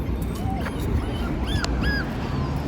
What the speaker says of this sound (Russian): Там щенок.